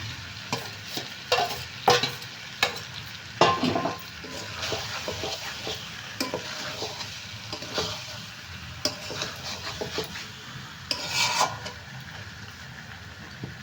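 Potatoes that were boiled and fried beforehand are tipped into a simmering mutton curry (mutton jhol) and stirred. There is a steady sizzle with repeated scraping and clattering stirring strokes up close, and no voices.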